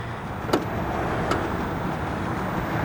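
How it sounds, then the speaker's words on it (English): Power liftgate on a 2025 Mazda CX-50 Hybrid closing: a steady motor hum with two sharp clicks or latch taps, close and clear, no talking. "That will lower the hatch right back down."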